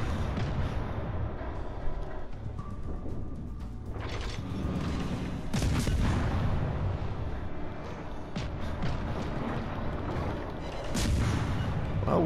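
Warship cannons fire in World of Warships: Legends, a Tier I French cruiser with only two forward guns firing: a series of heavy booms at irregular intervals over constant engine and sea rumble.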